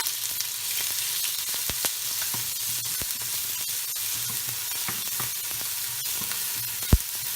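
Shallots, crushed ginger-garlic and green chilies sautéing in a pan for a chicken roast, making a steady, even sizzle with occasional faint stirring taps and one sharp knock near the end, close up and without speech.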